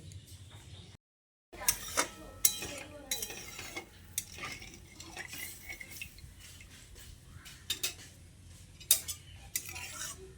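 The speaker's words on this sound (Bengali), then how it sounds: "এবার গরম জলটা দিয়ে মশলার সঙ্গে খুব ভালো করে নেড়েচেড়ে মিশিয়ে নিতে হবে।" A spoon stirs and scrapes spices mixed with hot water in a pan for an egg and boiled potato dish, giving irregular metallic clinks and scrapes with a faint simmering sizzle underneath and a short silent gap near the start.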